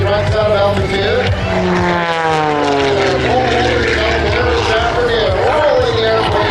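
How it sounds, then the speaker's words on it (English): Propeller engine of an Edge 540 aerobatic airplane performing airshow maneuvers, a loud sustained drone whose pitch sweeps and bends as the plane dives and rolls, with a commentator talking over it throughout. "rolling that airplane on that 45-degree down line, lining up again with the show line"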